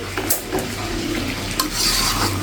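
A spoon stirs dry-cooked duck meat with coconut in a hot pan, scraping and clinking against the metal in a few quick strokes over a low sizzle, with no speech.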